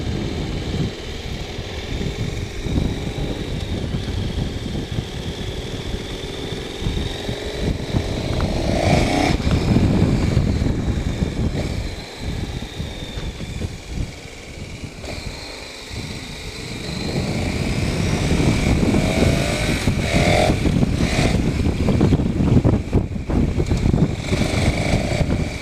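A motorcycle engine runs continuously on a test ride, a loud rough drone that rises and falls as the throttle opens and eases, with wind buffeting throughout and no voices.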